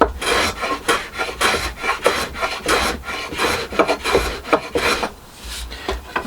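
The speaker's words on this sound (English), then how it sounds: "get the little block plane and just work across it a couple of strokes" A small block plane shaves the edge off wooden garden furniture in a quick series of rasping strokes, each one close and crisp, repeating in an uneven rhythm with brief pauses between passes.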